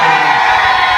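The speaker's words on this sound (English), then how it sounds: "Y'all don't all start cheering at one time." A crowd cheers and whoops at a Texas speedway garage party, a brief, loud burst of mixed shouts and yells that stays dense from start to finish.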